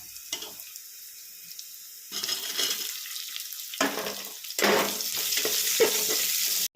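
Onion being sautéed in a pressure cooker pot for dal khichdi: a hissing sizzle that swells in bursts, broken by brief quiet gaps, with stirring noise building toward the end.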